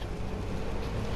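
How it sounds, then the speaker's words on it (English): A go-kart engine in a video game hums as a steady, rough drone for about a second, with no breaks and no voices. "Yep, that's a go-kart."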